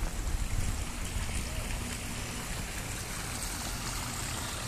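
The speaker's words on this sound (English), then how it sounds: "Beautiful water garden." Water flowing in a backyard water garden with retaining walls and a fireplace, a continuous close rushing trickle that stays steady throughout, with no talking.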